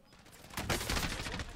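Gunfire in Call of Duty Warzone, with a rapid burst of automatic shots that starts partway in and rattles on loudly to the end.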